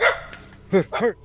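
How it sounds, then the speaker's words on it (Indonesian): A dog at a forest hut barks in short, close, sharp yelps, three quick calls with a person speaking briefly over the start. "ini suara anjing ini menggonggong terus ya"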